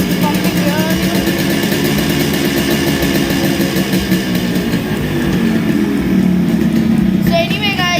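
A motorcycle engine with stuck piston rings runs steadily up close, a loud continuous throbbing idle with a slight rise in pitch partway through.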